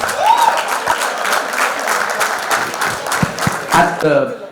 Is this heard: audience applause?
yes